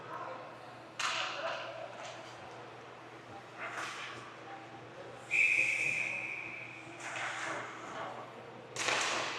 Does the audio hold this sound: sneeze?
no